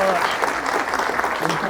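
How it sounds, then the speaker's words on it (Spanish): Applause from a lecture audience after a talk on Marx and mathematics, a dense, steady patter of many hands clapping at once, close and fairly loud, with no voices over it. "vamos a brindarle un fuerte y caluroso aplauso"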